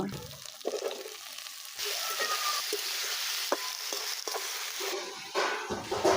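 Potatoes frying in a pan with already-browned onion and garlic give a steady, loud sizzle, with stirring scrapes and occasional clinks breaking through and a brief surge of crackle near the end.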